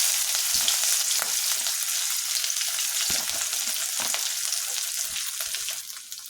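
Onions, added with chopped garlic, cumin and bay leaf, fry in hot oil for a dal, giving a dense continuous sizzle with intermittent spatula scrapes and crackles, loud and close.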